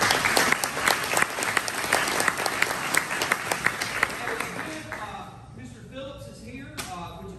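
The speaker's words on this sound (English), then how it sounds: "So let's give him a round of applause." An audience at a softball banquet applauds with sharp, close claps for about five seconds before the clapping thins and a voice begins speaking.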